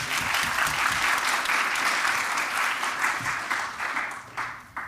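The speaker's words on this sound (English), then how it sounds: "Let's give them a round of applause" An audience at an engineering diversity forum at NC State applauds a panel with steady, dense clapping that fills the room for several seconds before tapering off.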